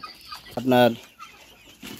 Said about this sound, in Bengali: দেখছেন মুরগি কীভাবে শ্বাস নিচ্ছে